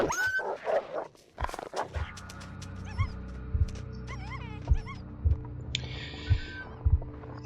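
Dog in the survival video game The Long Dark: a few short whimpering and whining cries near the start, then quieter yelps over a steady low hum and a slow, regular throbbing heartbeat-like pulse.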